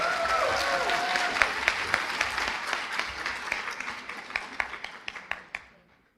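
An audience at a physician assistant white coat ceremony applauds a graduate, the dense clapping thinning into scattered individual claps that trail off into silence, with a voice briefly audible at the start.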